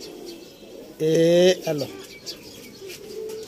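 Breeder pigeons kept in a loft give a short, close, throaty coo lasting about a second, followed by a softer trailing call, while someone talks faintly in the background.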